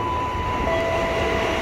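A KRL commuter train rumbles steadily through Universitas Indonesia station, a continuous loud rail roar with a faint tonal whine, close by and without voices.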